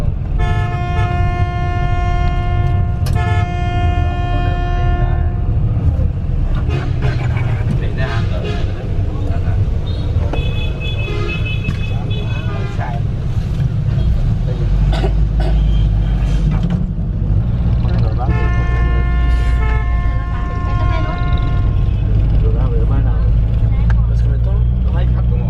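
Riding a city bus in Vietnam: a steady engine rumble fills the whole ride, and repeated tooting horns from the bus and nearby traffic cut through at intervals. Voices talk throughout.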